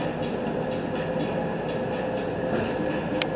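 A Las Vegas Monorail train rides over concrete slabs, giving a continuous close rumbling roar with faint rhythmic clicks and a brief high chime near the end.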